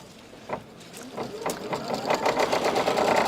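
A Kimberbell embroidery sewing machine starts stitching, its rapid mechanical rhythm building in loudness and settling into a steady whir, with voices faintly in the background.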